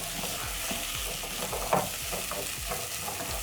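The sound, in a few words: carrots being stirred into a frying pan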